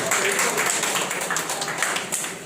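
A crowd claps steadily at a ceremony honouring doctors in Gopalganj, Bihar, a loud, even wash of many hands throughout.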